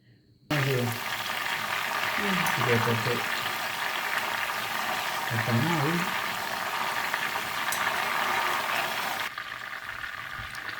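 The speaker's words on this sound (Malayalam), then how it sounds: "കയ്യൂന്നി ഇട്ടിട്ട് നമുക്ക് ഒരു തിളയും ഭയങ്കര പൊട്ടലും ഒക്കെ നമുക്ക് ആദ്യം കേൾക്കാം" Dense, steady crackling and sizzling of false daisy (kayyunni) leaves boiling in hot oil for a hair oil, loud and close, with a few brief murmuring voices beneath it.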